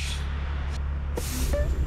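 Compressed air hisses steadily through a diesel aftertreatment fuel injector as the injector is turned in the airstream, a loud, continuous spray with slight shifts in tone.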